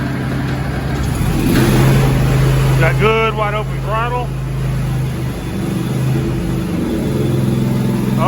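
A lawn mower engine runs at a steady, fairly loud idle right up close. Someone speaks briefly over the drone.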